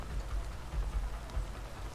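Rain falls steadily in the video game A Way Out, a soft continuous patter with low rumbling underneath, with no other sounds over it.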